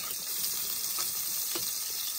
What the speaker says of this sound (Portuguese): Cebola fritando.